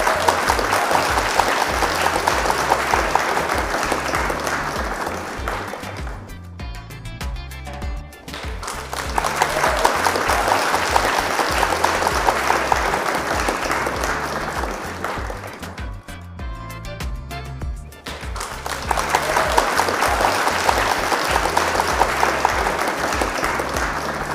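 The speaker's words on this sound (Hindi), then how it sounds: "प्रोग्राम के चीफ गेस्ट रहमान इब्राहिम साहब भरपूर तालियों में।" Loud, dense applause from a large crowd at a racing pigeon prize distribution ceremony in Pakistan, in two long bursts, each fading briefly before the clapping swells again.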